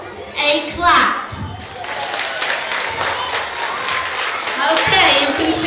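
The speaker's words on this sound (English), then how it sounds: "I would like you to give yourselves a clap." A school spring-concert audience claps for itself, a broad, sustained round of applause filling the hall with scattered voices mixed in.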